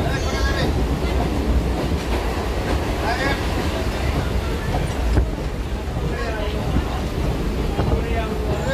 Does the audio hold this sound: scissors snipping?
no